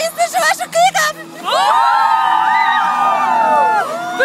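Crowd at an ice rink cheering and shouting after a few voices call out, a loud sustained swell of many voices whooping together that holds for a few seconds and then fades slightly.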